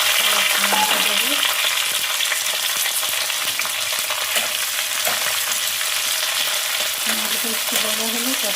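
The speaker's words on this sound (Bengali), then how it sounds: "রসুনটা ভাজা ভাজা হয়ে গেছে" Garlic and onion fry in a pan as the base for chilli chicken, giving a loud, constant sizzle with occasional stirring scrapes. There is no talk over it.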